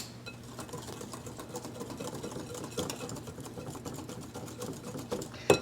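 A wire whisk beats wet cupcake batter ingredients, including vanilla, in a bowl, making a steady, rapid, fairly quiet rhythmic clatter that continues throughout with no talking.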